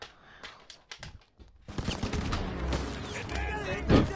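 Gunfire in Call of Duty: WWII, a quiet stretch of scattered shots giving way to a dense, loud burst of battle noise with a sharp crack near the end, a voice faintly underneath.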